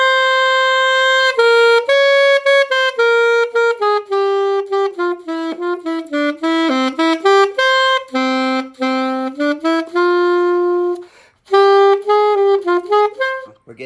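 Alto saxophone plays a fast middle-school band audition etude, a quick run of clearly tongued notes moving up and down, loud and close, with swells in volume and one short gap near the end; no talking.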